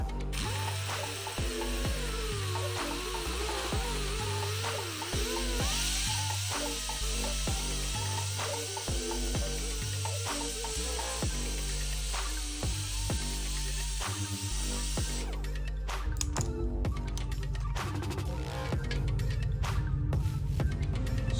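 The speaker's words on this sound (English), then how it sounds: "So I'm going to grind this down and use it." Angle grinder works on the frame of a 1979 Honda CBX motorcycle, a loud, steady grinding whine that runs nearly unbroken, then shifts to harsher, choppier contact bursts near the end.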